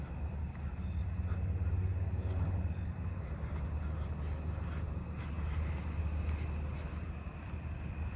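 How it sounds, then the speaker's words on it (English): Jumping bush crickets chirp from nearby bushes at night as a steady, dense insect chorus of high trilling, with a continuous low rumble underneath and no voices. "I hear some jumping bush crickets in those bushes."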